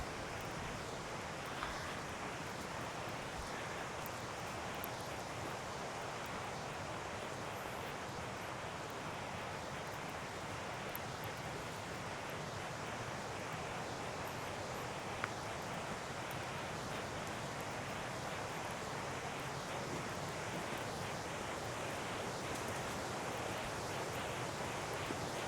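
River water flows through the woods as a steady, broad rushing wash, continuous and moderately loud with no clear breaks, blended with soft outdoor ambience and no talking.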